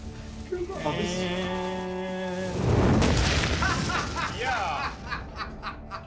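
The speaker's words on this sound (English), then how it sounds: "That was the best explosion we've ever done." A fuel-filled barrel explodes after a burning fuel trail reaches it, a big rolling boom that swells and rumbles for several seconds while people cheer and laugh over it.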